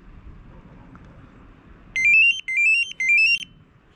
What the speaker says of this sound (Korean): 그리고 제 경보기